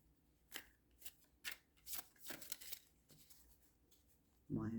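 Someone shuffles a deck of playing cards close up, producing a series of separate crisp riffling bursts with short gaps between them, and a voice enters briefly at the end.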